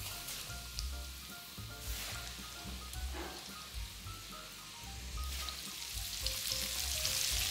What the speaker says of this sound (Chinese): 现在可以把肉加进来炸